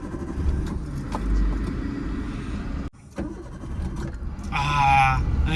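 A car engine revs during a driving lesson, droning steadily at moderate volume, briefly cutting out midway, then picking up again with a rising rev. People talk over it.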